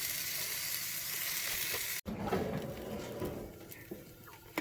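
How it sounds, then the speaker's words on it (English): A marinated New York strip steak hits a hot grill with a loud, bright hiss that settles into steady sizzling and crackle, close by with no talk. "And then you slap them on the hot side and just get those perfect grill marks"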